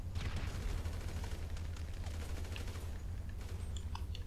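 Rapid gunfire rattles in a GTA video game, a dense continuous fusillade of shots lasting several seconds at moderate level.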